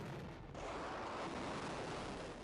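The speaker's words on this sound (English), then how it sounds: "The SSU located one and sent the coordinates to the Himars crew. The missiles are launched." HIMARS rockets launching in a wartime strike, heard as a loud, continuous broadband roar that swells after a brief dip and holds steady to the end, with no voices.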